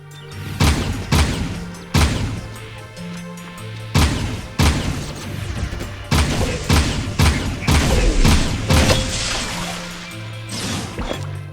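Rapid bursts of gunfire from a Jak II shootout, loud and close, with sharp cracks repeating in irregular clusters over a low droning background.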